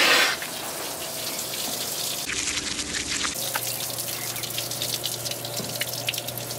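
Water pours steadily into a sewer manhole fitted with a watertight ventilated lid at about eight gallons a minute, a constant splashing gush with no talk.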